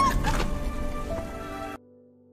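Heavy rain in a film scene patters steadily under a faint tonal background, then cuts off abruptly into near silence.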